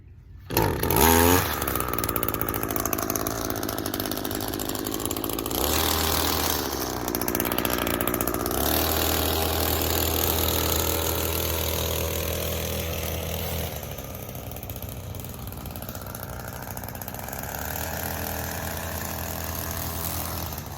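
Gas-powered weed trimmer starting with a pull cord, then its small two-stroke engine running steadily and loudly up close for about twenty seconds, with a couple of brief changes in pitch and no speech.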